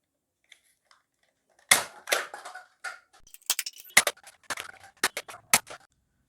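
Nerf N-Strike Elite Disruptor blaster firing with the trigger held, a rapid string of sharp plastic clicks and thwacks close to the mic, about a dozen bursts over several seconds with no talking.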